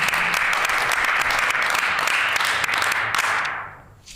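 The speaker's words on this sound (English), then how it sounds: "Yeah, that's worthy of applause." Applause in a legislative house chamber, dense continuous clapping from many members that holds steady for several seconds and then fades out quickly at the end.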